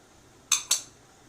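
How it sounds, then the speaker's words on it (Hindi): Metal utensils mixing vegetables such as potato and tomato into chickpeas for chana chaat, heard as two quick, close clinks in a row against an otherwise quiet background. "आए हम अब चने में सबसे पहले सब्जियाँ मिक्स करेंगे।"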